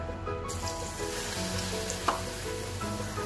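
Batter-coated potato vadas deep-frying in hot oil give a steady, close crackling sizzle throughout, with one brief sharper pop partway through and no talking.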